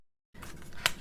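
Small eyebrow scissors make a quiet, close snip, a single crisp cut standing out against soft background hiss after a moment of silence.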